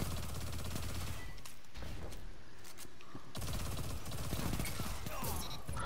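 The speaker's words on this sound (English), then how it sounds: "So it's a submachine gun." Submachine gun fire in Destiny 2 during a one-on-one match, dense rattling automatic bursts, loud and close, with a brief lull in the middle.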